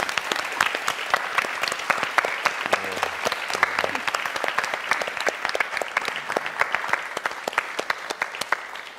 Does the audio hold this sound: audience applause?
yes